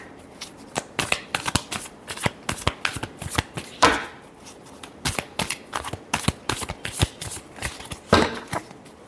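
Tarot cards are shuffled by hand in a rapid series of crisp riffling bursts, close and clear, with brief pauses between the quick flurries of card slaps.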